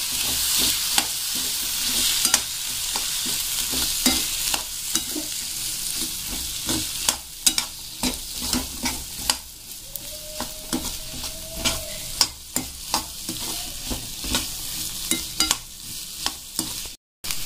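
Cooked black chickpeas being stirred into a frying masala, with steady close sizzling and repeated spoon scrapes against the pan, alone and without talk.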